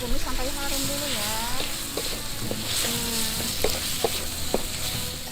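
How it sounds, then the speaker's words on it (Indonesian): Spice paste sizzles and crackles steadily in hot oil in a pan, with a few stirring scrapes and a voice talking over the frying. "Tumis sampai harum dulu ya."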